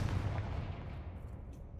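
A Confringo spell cast in the video game Hogwarts Legacy lands as a single low, booming blast that decays into a fading rumble, loud at first and tailing off.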